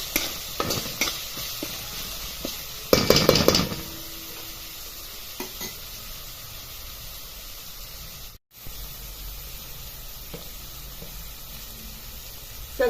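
Fresh grated coconut being sautéed and stirred in a pan for a green peas curry, a soft steady sizzle with scraping stir strokes and one louder burst of clatter early on, no talking.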